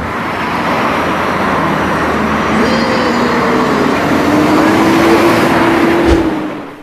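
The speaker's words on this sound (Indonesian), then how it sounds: "ini mobil bus Dayo." A Tayo toy bus, in a children's toy vehicle play, gives a continuous loud engine-like drone with a rising whine in the middle, ending abruptly.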